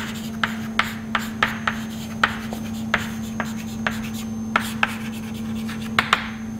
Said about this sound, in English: So let me write it for you.